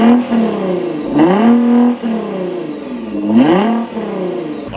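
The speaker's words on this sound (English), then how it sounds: "here's the last startup with stock downpipes" A Nissan GT-R engine with stock downpipes starts and revs up sharply several times, the pitch climbing and falling in loud, close bursts with a throaty exhaust tone.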